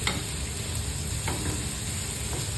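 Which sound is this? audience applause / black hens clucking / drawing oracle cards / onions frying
onions frying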